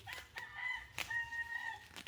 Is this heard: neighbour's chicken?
yes